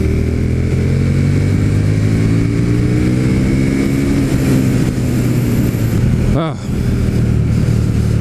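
A KTM Super Duke 1290R motorcycle engine roars loudly and steadily under throttle, rising and falling in pitch as it pulls through the gears, with a brief dip in the sound near the end.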